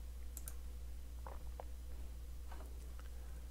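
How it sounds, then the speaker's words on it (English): A computer mouse right-click on a KDE Neon desktop: a couple of soft, brief clicks against a steady low electrical hum, with no talking. "Let's right click and see what we have."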